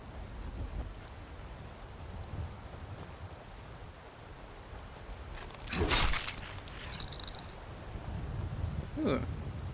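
Steady rain patters throughout a Skyrim game scene, with a sharp crack of thunder near the middle that rumbles briefly; a low voice speaks softly at times under the downpour.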